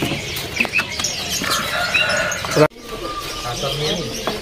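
Small caged birds chirp and tweet in quick, bright bursts close by, with some people talking faintly underneath.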